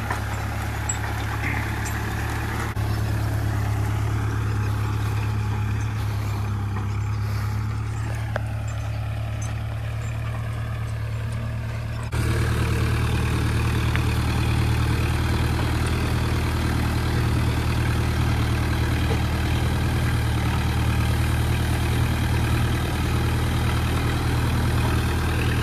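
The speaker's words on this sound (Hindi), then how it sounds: "जी तो कुलदीप चला रहा था ट्रैक्टर" Swaraj tractor engine running steadily at idle or low speed, a constant low rumble that turns a little louder and rougher about halfway through, with no talking.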